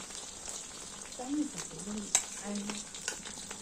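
Mustard and ginger paste being stirred and fried in a pan for pickle, a soft sizzle with scraping spoon strokes and a brief sharp clink, faint and close, with some quiet voice sounds.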